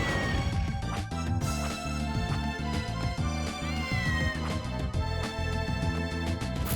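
A cat meows in Castlevania: Order of Ecclesia, faint and brief under continuous loud game music.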